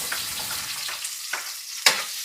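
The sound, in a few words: garlic and onion sautéing in a pan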